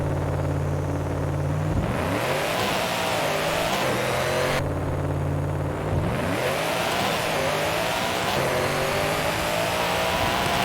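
A car in Forza Horizon 5 launches hard from a standstill, its engine roaring loudly and climbing in pitch through repeated gear changes, idling low before each of two launches with no pauses in the noise.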